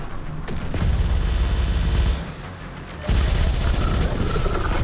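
Dense, sustained gunfire from the game Terminator Dark Fate: Defiance, with rapid overlapping shots and booms that briefly ease off mid-clip before surging back loud and continuous.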